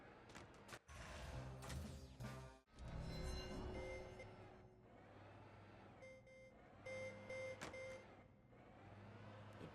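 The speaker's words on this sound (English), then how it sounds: "It beeps when I go backwards." Vehicle reversing beeps in the Dead Rising video game, a steady series of evenly spaced electronic tones mixed over game sounds and clatter, fairly quiet overall.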